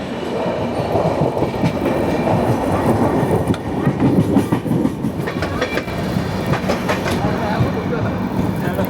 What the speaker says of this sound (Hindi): तो अभी हमारी ट्रेन अप्रोच कर रही है तुमसर रोड जंक्शन को